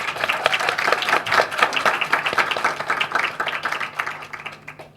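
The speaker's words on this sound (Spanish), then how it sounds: "Un aplauso, por favor." Audience at an undergraduate literature colloquium panel at a Chilean university applauds a professor taking her seat, a modest, moderately quiet spread of clapping with some individually audible claps that thins out toward the end.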